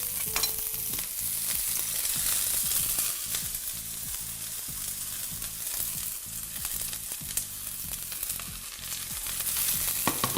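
Garlic and onion sizzle steadily in very hot olive oil in a pan, a dense continuous crackle with faint rhythmic stirring ticks, close and alone.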